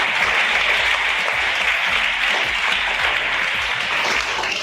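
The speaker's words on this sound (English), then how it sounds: "Big round of applause for Samir." Students and staff at a school National Space Day quiz competition applaud a team member, a continuous, fairly close crowd clapping with individual hand claps standing out in the mix.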